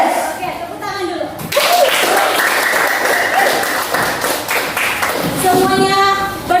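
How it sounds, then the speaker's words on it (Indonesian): A school class claps hands together in a classroom, a short burst of children's talk first, then a steady wash of clapping that fades toward the end with voices over it. "tepuk tangan dulu"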